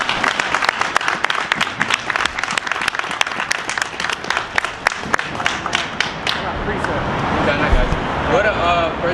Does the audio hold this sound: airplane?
no